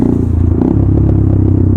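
A KTM Duke 390 motorcycle engine runs loud and close during a night ride, a steady low rumble with light rattles.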